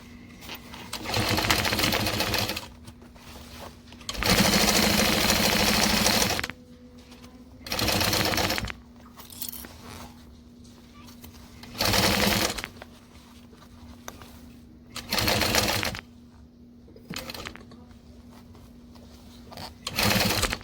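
Sewing machine stitching around a pocket in bursts of steady whirring, each run lasting a couple of seconds with quiet pauses between, close and moderately loud.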